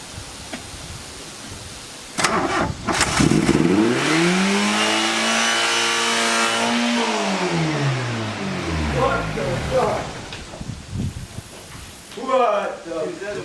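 A 32-year-old car engine being started for a Seafoam treatment cranks, catches and revs up with a rising then falling howl, loud and close, with people talking around it.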